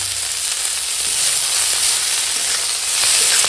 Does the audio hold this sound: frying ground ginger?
yes